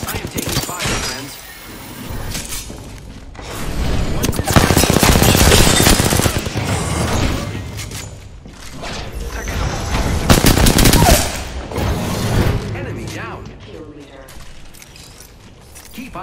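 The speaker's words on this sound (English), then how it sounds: "Opening fire on the enemy. I am taking fire, friends." Bursts of automatic gunfire from the video game Apex Legends rattle loudly in several volleys, mixed with shattering and mechanical effects, while in-game character voices call out over the shooting.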